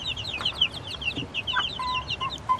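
A mother hen clucks low and softly among her chicks, whose rapid high peeping cheeps run throughout, close by.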